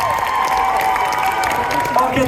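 A crowd at a cosplay contest during a Japanese culture convention applauds a contestant, loud steady clapping mixed with cheering and voices over amplified background sound.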